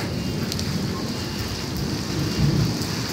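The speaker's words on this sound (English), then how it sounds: "Crazy electrical storm." Heavy rain pours down in an electrical storm on Florida's east coast, a dense steady roar with a deeper rumble of thunder swelling briefly toward the end.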